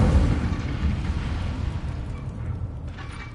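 Incendio fire spell cast in Hogwarts Legacy, a loud low rumbling whoosh of flame that bursts at the start and rolls on steadily, slowly fading over a few seconds.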